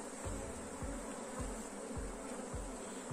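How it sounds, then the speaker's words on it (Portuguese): Buzzing of a honey bee swarm at the hive at an apiary, a steady dense hum with some closer passing bees, continuous throughout with no talking. "Só o enxame está muito bom"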